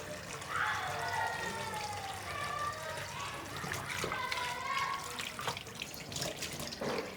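Spinach being washed under a running kitchen tap, with a steady stream of water splashing and trickling into a sink throughout, fairly close and continuous with small shifts as the leaves are moved.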